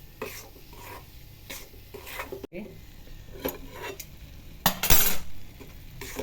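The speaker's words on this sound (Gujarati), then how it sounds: "આ રીતે ધીમે ધીમે મેદાને શેકતા જવાનું છે" A spoon repeatedly scrapes and knocks around a pan as maida flour is slowly stirred and roasted, making close, rhythmic scraping strokes over a light sizzle, with no voices.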